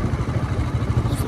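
Royal Enfield Bullet motorcycle on a short ride, a close, steady low engine thump with road and wind noise, and a voice talking over it.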